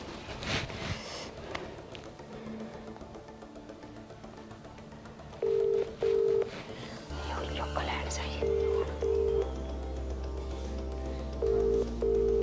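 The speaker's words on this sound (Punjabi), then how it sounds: "ਮੰਮੀ ਮੈਂ ਵਿੱਕੀ ਨੂੰ ਫੋਨ ਲਾਵਾਂ ਭਲਾ?" A phone call is dialed and rings out indoors, with paired electronic ringback tones repeating at regular intervals after some faint movement and soft voices.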